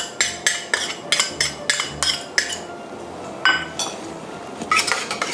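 A spoon clinks against a bowl while stirring yogurt sauce with ginger and chopped coriander, giving a quick run of bright taps, a pause, then a few more clinks, close and clear with no talking.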